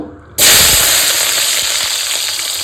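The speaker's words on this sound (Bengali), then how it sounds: "এবার এই চর্বিগুলো এই তেলে দিয়ে দেবো" Chicken fat dropped into hot oil that has just fried potatoes bursts into a sudden loud, crackling sizzle that stays steady and close for a couple of seconds.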